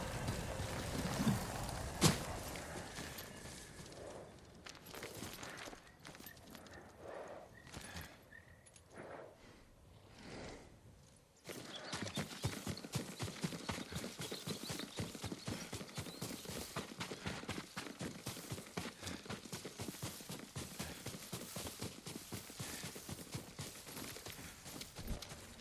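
Horse hooves in the Ghost of Tsushima video game, a light irregular clip-clop at first, then a steady, denser stream of hoofbeats running on for the last half, moderately loud and without talk.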